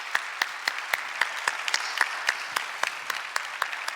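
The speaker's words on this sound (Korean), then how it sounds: "다시 한번 우리 격려의 박수 해주시기 바랍니다" A church congregation at a Sunday worship service gives a sustained round of applause, with steady clapping and a few sharp, prominent claps standing out throughout.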